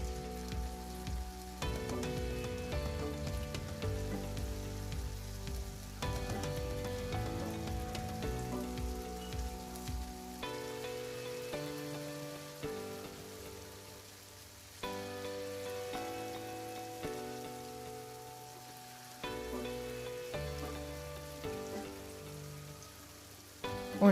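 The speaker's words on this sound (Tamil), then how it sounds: "இப்போ ஒரு பேனில் ஆயில் வச்சு ஆயில் ஹீட் ஆனோடனே இந்த பொட்டேட்டோஸை ஒன்று ஒன்றா போட்டு ஃப்ரை பண்ணிக்கலாம்." Potato pieces fry in hot oil in a pan with a continuous crackling sizzle, like rain on a surface, carrying on through its length with occasional brief pauses and shifts in intensity.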